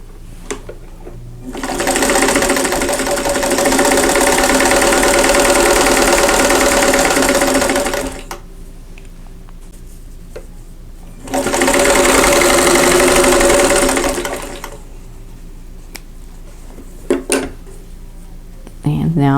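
Sewing machine stitching the corners of a folded star quilt block, two long, steady whirring runs separated by a pause, with small clicks and handling noises between and after.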